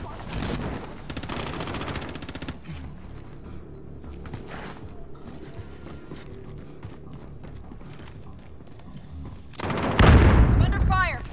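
Call of Duty match with distant gunfire and battle noise, ending in a loud burst near the close; voices talk throughout.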